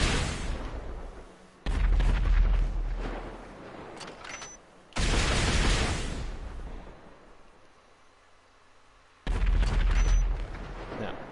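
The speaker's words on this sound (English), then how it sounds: "those 5 rockets are going to be chasing any aircraft that you lock onto" Homing rockets from a lock-on launcher in a GTA video game blast off in three loud, sustained roaring bursts, each starting abruptly and fading over a couple of seconds, with quiet gaps between.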